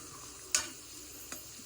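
Boiled tilli pieces fry in a pan with salt, a soft continuous sizzle broken by two sharp utensil clinks against the pan.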